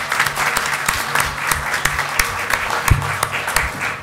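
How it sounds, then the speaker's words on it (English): A room of attendees at a North Charleston city council meeting claps together, an uneven patter of individual hand claps, moderately loud and close, with faint murmuring beneath. "let's give him a round of applause"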